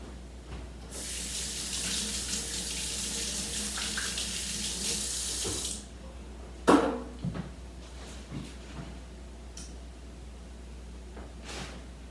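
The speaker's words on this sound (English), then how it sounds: "give me a second to rinse off my hands" A kitchen faucet runs steadily for about five seconds as hands are rinsed beneath it, a close hissing gush that then stops, followed by a clack and a few faint handling knocks.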